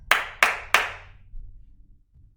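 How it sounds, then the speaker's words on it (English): Three sharp hand claps ring out in an even, quick rhythm, close and loud, followed by a faint low murmur of room sound. "3 claps."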